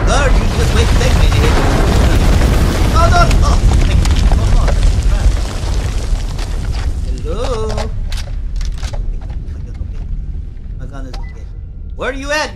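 A grenade goes off in the horror game House of Ashes, a loud, sustained rumbling blast that fills the opening seconds and then decays into a low roar, with voices breaking in over the fading tail.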